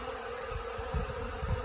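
Honeybees drone in a dense, continuous buzz at a spring foraging flight in snowy conditions, faint but steady, with no voices.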